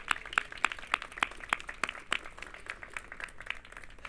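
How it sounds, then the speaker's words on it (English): Scattered claps from a small audience at an outdoor library groundbreaking ceremony with the mayor, a few hands clapping in a sparse irregular rhythm at moderate distance, no voices over them. "let's give her a round of applause"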